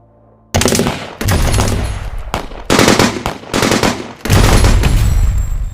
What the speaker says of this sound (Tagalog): Nakipagpalitan ng putok sina Benny